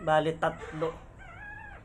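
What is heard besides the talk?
newborn puppies whimpering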